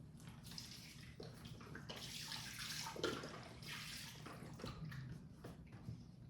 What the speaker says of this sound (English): All right, we're going to put in the broth.